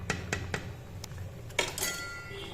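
A spoon clinks several times against a pot of cooking dal while ghee is added, producing sparse, light metallic taps close by, with no talk.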